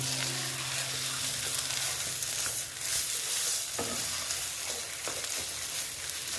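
Egg chop mixture being stirred and mixed by hand in a bowl, a steady soft scraping and squishing that runs throughout, with a faint sizzling backdrop and no talking.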